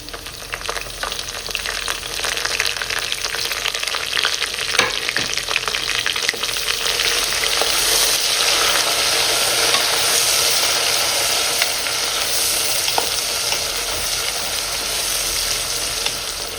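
Onions sauté in a pan with freshly cut mint and coriander for mushroom biryani, giving a loud, dense, continuous sizzle that swells midway, with occasional faint stirring clicks and no talk.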